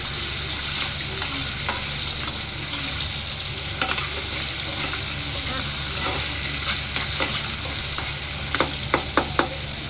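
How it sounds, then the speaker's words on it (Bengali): Chicken pieces fry in hot oil on a home stove, giving a steady bright sizzle throughout, with occasional sharp pops and spatters growing more frequent near the end. "আমি চিকেনটা ভেজে নিব আগে।"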